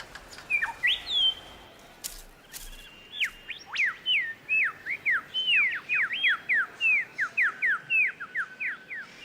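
Superb lyrebird calling in a dry, normally moist forest: a fast run of clear, loud whistled notes and sweeping chirps, repeated in a rhythmic series against quiet background.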